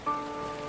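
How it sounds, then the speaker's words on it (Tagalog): Steady rain falling, a soft even hiss on an outdoor surface during a street scene in a Filipino drama, with a brief tone near the start. "Medyo mahina na yung ulan."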